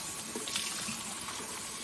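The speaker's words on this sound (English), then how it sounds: "then go ahead and rinse it all out" Water runs steadily from a bathroom faucet as a washcloth is rinsed under it, a continuous close splashing hiss with no voices.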